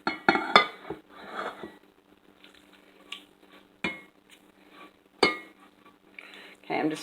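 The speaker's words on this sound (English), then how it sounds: "I'm just scraping all that yumminess out of there" A metal utensil scrapes and knocks against a pan, with a few sharp clinks and softer dragging scrapes in between, close to the listener.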